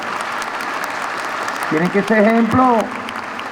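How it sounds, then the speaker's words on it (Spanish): Audience applause at a military academy, a broadband wash of clapping running throughout beneath a voice speaking over it. "Un aplauso, ¿vale?"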